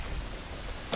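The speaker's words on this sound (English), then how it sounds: "And not only that, it is storming." Steady rain hiss with low rumbling thunder in a stormy Kakariko Village in The Legend of Zelda: Ocarina of Time, a continuous wash of rainfall with a brief brighter burst at the end.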